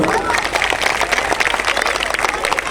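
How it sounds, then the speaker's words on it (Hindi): Audience at an Indian New Year (Nav Varsh) stage programme breaks into dense, loud applause, steady claps filling the whole stretch with crowd noise underneath. "उन सब के लिए एक बार जोरदार ताली बजाएंगे आप सब लोग।"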